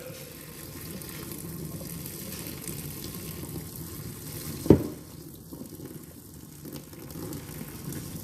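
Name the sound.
draining water into a sink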